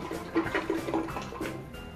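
Liquid floor soap pours into a bucket of water, a short gurgling, splashing stream close by with no talk.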